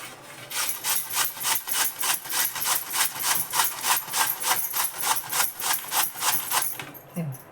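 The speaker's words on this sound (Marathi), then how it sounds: "आता हे मी बटाटे किसून घेते." Peeled potatoes are rubbed down a coarse grater for a fasting-day potato dish, giving a steady run of about twenty rhythmic rasping strokes, close and clear, with no talk over them.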